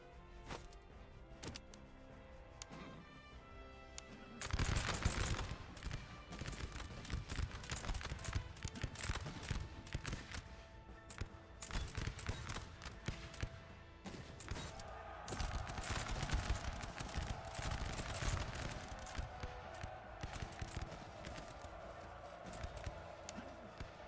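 Musket volley fire from a Revolutionary War–era battle in the strategy game Master of Command, heard as dense overlapping crackling gunshots over a continuous loud battlefield din, with talk in the background.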